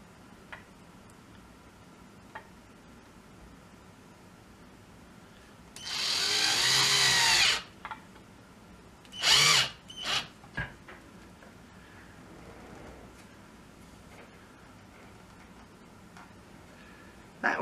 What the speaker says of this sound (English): and of course a drill, I'm going to attach the hooks to the board.